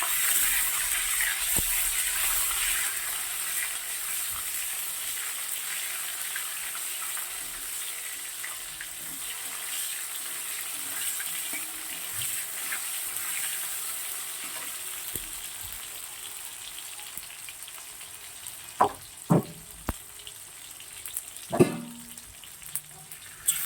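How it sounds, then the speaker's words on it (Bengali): Whole cumin seeds sizzle in hot oil, the first tempering for a fish curry of desi katla; a steady frying hiss runs throughout, with a few louder spoon or utensil clinks near the end. "মাছটা রান্না করার জন্য ফোড়নে দেবো হচ্ছে সাদা জিরে গোটা, দিয়ে দিলাম"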